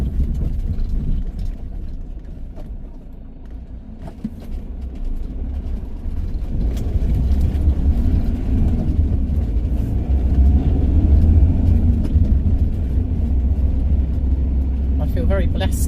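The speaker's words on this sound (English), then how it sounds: "Just let the car go past." A car drives past on a rural road near Moffat, Scotland, its low rumble swelling and fading over steady outdoor background noise.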